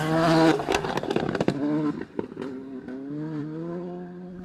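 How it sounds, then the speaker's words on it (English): A Volkswagen Polo rally car at a stage rally event revs and roars close by, loud throttle bursts and crackles early on, then settling into a steadier engine note as it pulls away. "this is Bob's own car, and he's actually the only Polo in the event today"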